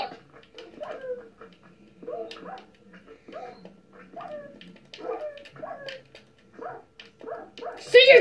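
Dogs in the video game Minecraft bark and whimper in short repeated yips, near and fairly loud, over steady game sound.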